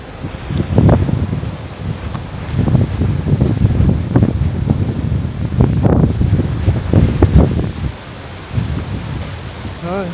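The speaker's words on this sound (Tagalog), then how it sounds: "Ay, sarap ng hangin." Wind gusts across the open streets of Old Tallinn, Estonia, gusting steadily with rustling and buffeting on the microphone, near and fairly loud, easing briefly near the end; a few indistinct voices sound faintly underneath.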